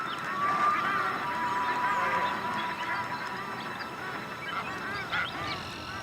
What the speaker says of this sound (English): Summer also brings with it millions of birds.